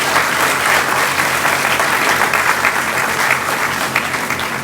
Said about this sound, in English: So let's give the team a big round of applause.